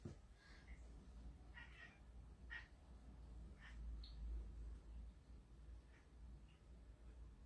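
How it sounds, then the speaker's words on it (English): A cat meows repeatedly in short, chirpy calls, fairly quiet and a little distant, over a low background hum. "If you can hear a cat talking"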